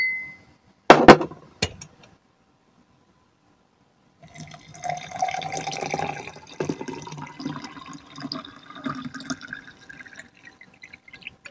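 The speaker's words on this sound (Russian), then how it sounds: "Заливаю воды," Water poured from a container onto a heaped spoonful of clay in a glass or cup, preceded by a few sharp clinks, then a trickling, gurgling pour rising in pitch as it fills, close and alone.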